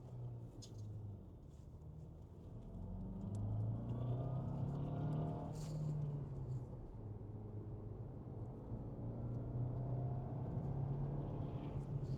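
An Alfa Romeo with a 1.75 TBI engine drives along with a low rumbling engine, pitch rising and falling as it accelerates and shifts, heard from inside at moderate volume.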